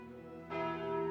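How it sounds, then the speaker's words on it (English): Calling Bell relic chiming in Slay the Spire, a single deep church-style bell strike that rings out with a sustained, slowly decaying tone. "I'm gonna take this Calling Bell."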